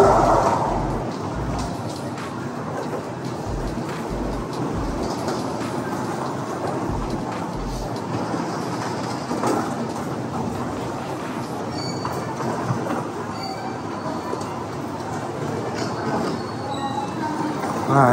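A commuter train carriage runs along the tracks with a steady, moderately loud rumble and rattle, as heard from inside the car, with faint talk in the background.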